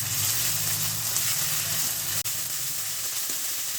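Chopped onion with a spoonful of ginger-garlic paste sizzles steadily in a hot pan for a fish mustard-poppy curry, a loud continuous frying hiss with a brief break near the middle and no talk.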